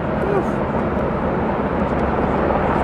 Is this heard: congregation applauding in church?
no